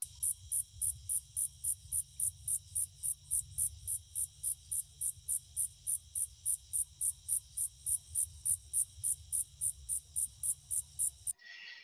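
A singing insect gives evenly spaced buzzes, each a short bright burst repeating in a steady, regular rhythm for several seconds, clear and alone over a soft low background rumble.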